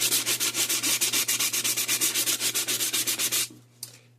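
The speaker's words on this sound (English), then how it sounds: "So I'm going to go ahead and sand it a little bit and get it roughed up." A gourd's surface is sanded by hand, making quick, even back-and-forth scratchy strokes, close and loud, about two dozen in a row before they stop, followed by a faint tap.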